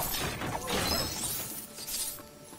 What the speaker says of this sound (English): Okay, I'm smashing stuff.